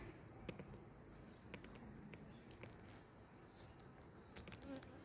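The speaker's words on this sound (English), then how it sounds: "Another bee buzzing around there." A bee buzzing around during a honey harvest, faint and intermittent, passing near and away over a soft outdoor background with scattered small taps.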